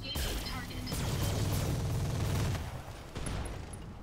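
Mech weapons from several BattleTech mechs in the Roguetech mod of the video game fire all at once, a loud layered fusillade of heavy booms and crashing impacts that rumbles on for a couple of seconds before tailing off.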